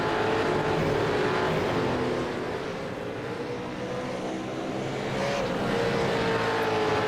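V8 Supercars racing in a sim racing game at Interlagos, a steady loud engine roar with shifting pitch as cars run close together in a slipstream.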